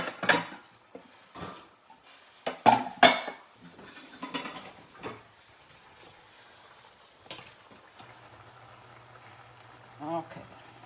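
Dishes and utensils clatter in a kitchen as jollof rice is served, with scattered sharp clinks and knocks of varying loudness close by, under intermittent talk.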